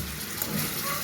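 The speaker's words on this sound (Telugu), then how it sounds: "చక్కగా ఫ్రై చేసుకోండి." Sliced onions frying with chicken in a little oil in a pan, a soft continuous sizzle and crackle, faint and brief.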